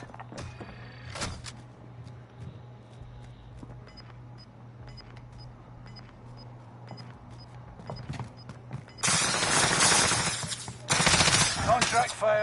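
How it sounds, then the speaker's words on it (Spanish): Gunfire in the Warzone battle-royale video game: scattered faint shots and clicks build to two loud, dense bursts of rapid automatic fire near the end. "Y te disparo a ti ya, weón."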